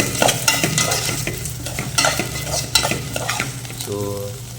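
Garlic cloves fry noisily in oil for a garlic kuzhambu, with salt just added, as a utensil stirs and scrapes against the pan in repeated close strokes under a continuous sizzle, no voices.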